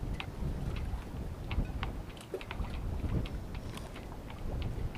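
Wind gusting across open ice during ice fishing, a continuous low rumbling buffet with faint scattered clicks and ticks on top.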